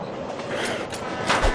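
Train in the Spider-Man 2 video game rumbling continuously with a rolling, rattling rush and swelling surges of noise, loud and close throughout.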